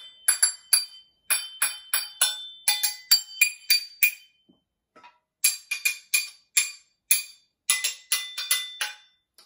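Clear, ringing clinks from repeated taps on a small measuring cup, in bursts of quick strikes with short pauses, close and fairly loud.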